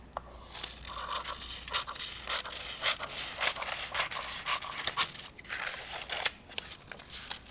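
Scissors cutting a sheet of folded paper along a crease, a series of short crisp snips and rustling paper crunches in an uneven rhythm, close and fairly quiet, with no talking.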